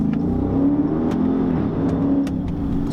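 A Dodge Charger 392 engine accelerates hard, a deep close rumble that rises in pitch and loudness over a few seconds, with no voices.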